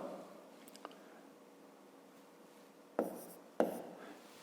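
Pen writing on paper during a fifth-grade math lesson, soft scratching strokes with a faint tap early on and two sharper strokes near the end, close and quiet.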